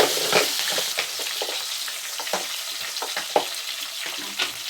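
Onion frying with fenugreek, mustard and cumin seeds in oil for Nellore fish curry, a steady close sizzle broken by repeated scraping stirs of a spatula through the pan.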